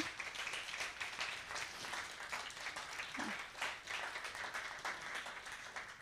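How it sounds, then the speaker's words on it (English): Sustained applause from a conference audience for the speakers, dense clapping holding at an even level throughout. "give a big round of applause for our fantastic speakers"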